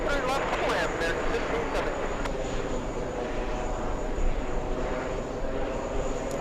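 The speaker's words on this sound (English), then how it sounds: "Air India, the A350 is on the move finally" An Air India Airbus A350 taxis at a busy airport, heard as a steady broadband jet engine roar, fairly distant and continuous, with faint talk underneath.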